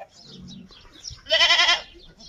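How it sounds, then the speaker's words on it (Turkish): Goats on a village farm bleat loudly and close by in one wavering call, after softer animal and background sounds. "İşte keçiler var."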